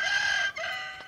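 Rooster crowing on a poultry farm, a single close, strained crow with a brief break midway, fairly faint overall with no talk.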